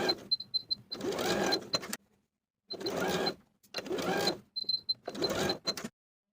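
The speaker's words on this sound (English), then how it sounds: "you'll sew along the pairs of lines from the top to the point, reducing your stitch length as you reach the bottom of the pleat" A sewing machine stitches along pleat lines in shorts fabric, running in four bursts of steady mechanical whirring separated by short pauses, close and fairly loud with no talking.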